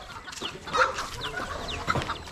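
Bantam chickens clucking and chattering softly in a backyard coop, a steady cluster of short calls at moderate distance over low ambient noise.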